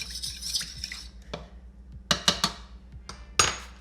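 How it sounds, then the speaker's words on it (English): A utensil mixes a chicken spiedie marinade in a bowl: scattered scraping and stirring, then several sharp clinks against the bowl, close and fairly quiet, with no one speaking. "Gotta mix this up. This is our marinade."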